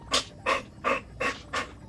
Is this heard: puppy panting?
yes